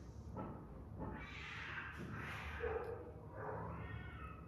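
A cat meows several times, drawn-out and fairly quiet in a still indoor room, with no talking over it.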